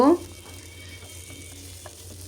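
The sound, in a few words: stirring and frying whole spices in a pan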